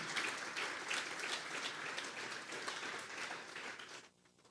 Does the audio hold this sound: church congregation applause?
yes